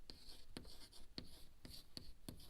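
Chalk or marker writing on a board during a chemistry class, heard as quiet, rhythmic scratching strokes about every half second, close and clear with no talk over them.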